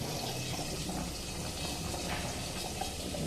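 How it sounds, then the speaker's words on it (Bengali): Dal (lentils) bubbling in a cooking pot gives a steady, fairly faint hiss and gurgle of boiling liquid throughout, with no pauses. "দেখুন ডালটা কত সুন্দর ফুটতে শুরু করেছে।"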